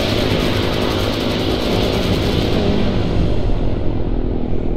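Warplanes flying overhead in the Order of War video game: a loud, sustained engine drone that holds steady and then loses its upper hiss near the end, with no voices.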